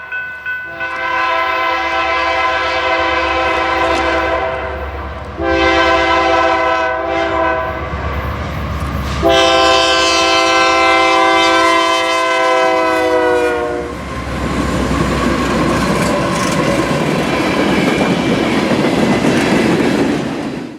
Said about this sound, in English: I found myself set up in Poto, Oklahoma for northbound KCS train M261.